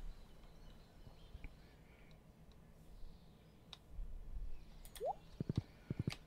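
Rhythmic clip-clop of a horse's hooves in Stardew Valley Expanded, a few quick light taps near the end over a quiet ambient background.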